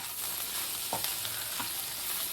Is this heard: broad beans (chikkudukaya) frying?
yes